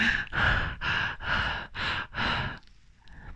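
A voice imitates heavy, exhausted breathing after climbing onto a platform, six loud rhythmic panting breaths in quick succession, then a quieter trailing breath, close and alone.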